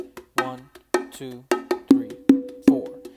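A ghost groove on bongos: sharp, resonant drum strikes in a steady repeating rhythm, near and clear, with softer ghost taps between the louder ringing hits.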